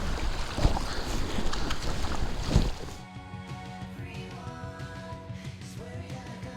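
An Aquaglide Chelan 155 inflatable kayak paddled on open water, with gusty wind noise, a few paddle splashes, then calmer water sounds with faint voices in the background.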